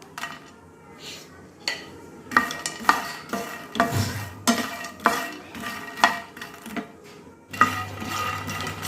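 Dry fox nuts (phool makhana) being toasted and stirred in a pan, giving repeated rattling, scraping strokes with light clinks of a utensil, fairly close and steady with no talk.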